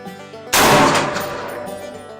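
One loud, close rifle shot at an outdoor target range, from either an AR-10 or an LR-308. A sharp blast is followed by a long, fading echo.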